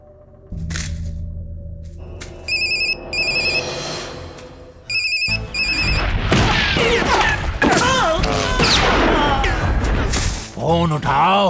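A telephone ringtone sounds in repeated bursts, then loud crashes, thumps and agitated voices take over the scene while the ringing fades under the commotion.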